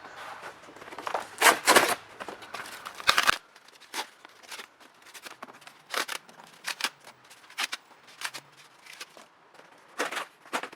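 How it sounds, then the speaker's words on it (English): Cardboard packaging is torn by hand into small pieces for a worm farm, giving a run of short, close, crisp ripping and crackling bursts separated by brief pauses. "So just tear it into small pieces for the worms and spread it over."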